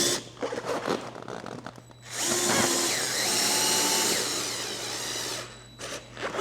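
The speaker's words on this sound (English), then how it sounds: "I'm going to have to drill new holes for these 2." A power drill bores new mounting holes for a car mud flap, with brief bursts at the start, then a steady loud whine running for several seconds before stopping and a short burst again at the end.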